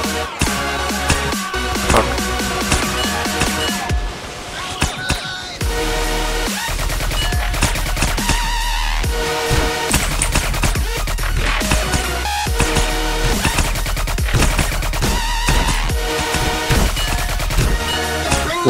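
Rapid-fire gunfire in a video game, a dense, continuous barrage of shots layered over a busy music and effects mix, loud and unbroken for the whole stretch with only a brief dip partway.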